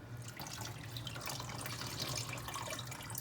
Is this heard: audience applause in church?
no